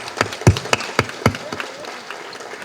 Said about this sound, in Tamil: அவங்க எல்லாருக்குமே ஒரு பெரிய கைத்தட்டல் கொடுக்கலாம்